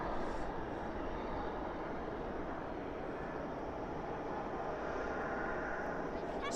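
A CRJ 700ER jet lands at night at Dallas/Fort Worth International Airport with spoilers up and thrust reversers out, making a steady, distant rushing roar that holds for several seconds.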